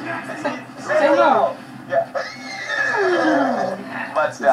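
A diamond horse in the video game Borderlands 2 gives a couple of whinnying neighs, close and clear, with a player talking in between.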